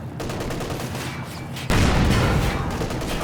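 Dense, continuous gunfire and explosions rumble in a Company of Heroes-style battle as a Panzer IV engages a Soviet Penal Battalion, loud and sustained, swelling into heavier booming blasts midway with no talking.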